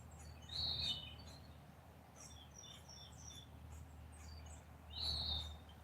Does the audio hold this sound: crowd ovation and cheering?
no